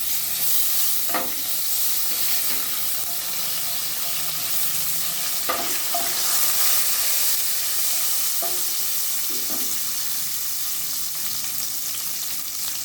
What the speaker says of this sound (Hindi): कसूरी मेथी, इनको हमें भूनना है इस तरीके से।